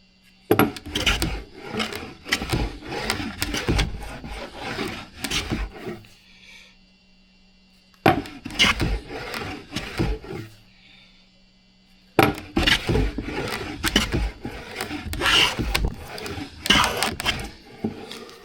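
A transitional hand plane, a wooden-bodied plane with a metal adjustment mechanism, rasps along a wooden board taking shavings in three separate bursts of close scraping strokes, with quiet gaps between passes.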